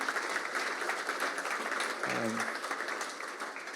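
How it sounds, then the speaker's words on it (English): An audience at a church gathering applauds with a dense, continuous wash of clapping that holds steady for several seconds, with a brief voice surfacing partway through. "Let's give these guys another clap, eh?"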